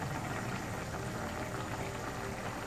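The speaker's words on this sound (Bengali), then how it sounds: "এটার বলকটা চলে এসেছে" Fish curry bubbling at a full boil in a covered pan, a dense, even, continuous simmering roar that stays constant throughout with no talking.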